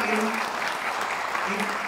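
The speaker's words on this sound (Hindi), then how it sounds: "आप जोरदार तालियां बजाइए" Audience at a business success seminar in a hall applauds loudly and steadily throughout, a dense sustained clapping wash with a voice faintly audible underneath.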